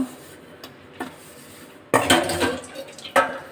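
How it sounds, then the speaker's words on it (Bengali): Plates being scrubbed in a kitchen, with scattered clinks and clatters of dishes and cutlery, faint at first, then louder bursts of knocking and scraping close by. "থালাগুলো মেজে নিচ্ছি"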